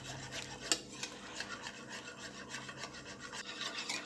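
Buttermilk and gram flour batter for khandvi being whisked in a bowl, giving a continuous soft rasping, rubbing texture with faint utensil scrapes.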